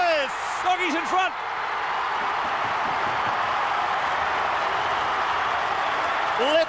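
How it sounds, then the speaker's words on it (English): At a 1995 AFL football match between Fremantle and Footscray, a large stadium crowd roars and applauds in a sustained, dense wash of noise, with a commentator's voice briefly heard over it at the start and end. "Let the crowd do the talking."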